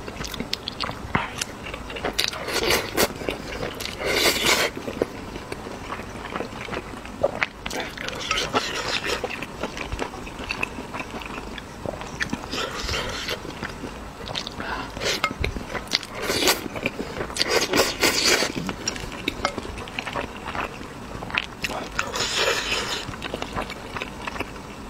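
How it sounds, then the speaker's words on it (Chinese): Braised pork, fatty pork intestines and spicy mixed noodles are eaten close to the microphone with steady wet chewing, biting, slurping and soft crunches throughout. "今天吃红烧肉、肥肠、拌面"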